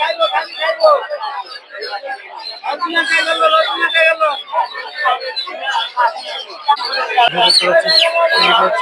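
Chickens and young chicks at a busy poultry market give constant overlapping peeping and clucking, loud and close, mixed with people talking.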